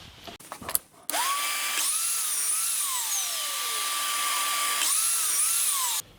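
A power drill bores a 9.5mm hole into a wooden hexagon clamp, a loud steady high whine that winds up, runs evenly for several seconds and spins down at the end, after a few brief knocks.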